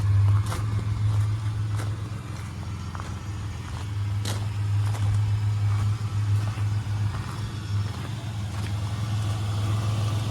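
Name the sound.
1992 Ford Ranger XLT engine idling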